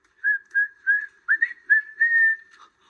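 Whistle signals in a children's TV show: a run of short, bright whistled notes, mostly steady in pitch with a couple of warbling bursts, evenly paced and clear, heard alone without speech.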